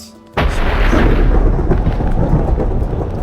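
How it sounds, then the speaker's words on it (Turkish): In the video game Minecraft, a lightning strike sets off a sudden loud crack of thunder, followed by a long, deep rumble that rolls on and slowly fades. "şimşek çakıyor"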